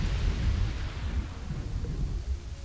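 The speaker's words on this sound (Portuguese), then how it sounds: "Caramba, outra tempestade." A thunderstorm in the city-building game Kingdoms and Castles rolls on as a low, rumbling thunder bed under steady hissing rain, loud and continuous throughout with no speech.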